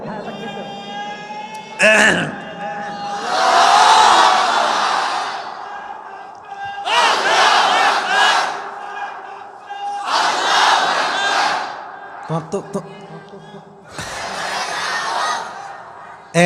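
A crowd at an Islamic religious lecture shouts the takbir together in several loud, drawn-out collective bursts, separated by short gaps where someone speaks.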